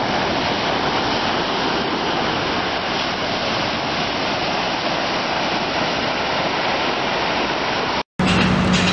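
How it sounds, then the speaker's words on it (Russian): Ocean surf breaks on a Gold Coast beach as a loud, steady, close roar of crashing and washing water, with some wind noise, running unbroken for about eight seconds before an abrupt cut. "Океан — это, конечно, вообще крутяк все-таки."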